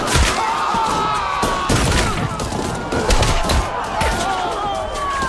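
Gunfire in a documentary recreation of troops firing on a crowd at the single gate of Jallianwala Bagh, heard as a dense, continuous fusillade of overlapping shots and thuds throughout, with a voice faintly beneath.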